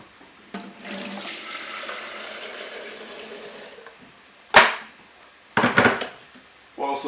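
Water runs from a kitchen tap into a pot for refilling before boiling, a steady hiss that fades out, followed by a couple of brief clunks and splashes nearby.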